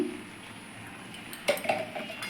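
Cashews and raisins stirred in ghee in a pot for Bengali basanti pulao: a faint background hiss, then a spoon scrapes and clinks against the metal a few times in a short, close burst.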